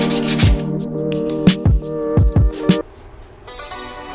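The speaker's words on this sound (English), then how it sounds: "and I'm gonna grind the rounded back down." Harsh abrasive grinding on the rounded back of a knife blade, a few uneven rasping passes with pauses in between, close and fairly loud.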